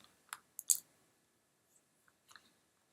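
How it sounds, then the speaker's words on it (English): A few soft computer mouse clicks in a quiet room, a quick cluster of two or three sharp taps followed by fainter isolated clicks. "I'm going to click OK"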